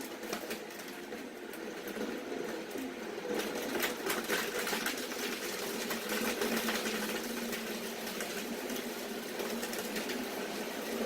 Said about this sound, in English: Now that we've blended all of the fruits and vegetables together into a pulp slurry